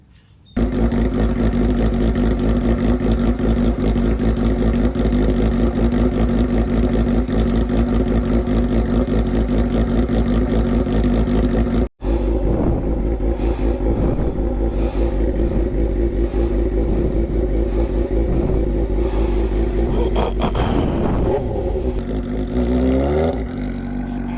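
Suzuki GSX-R 600 motorcycle being ridden, its engine droning loud and steady at close range, with a brief cutout midway and rising revs toward the end.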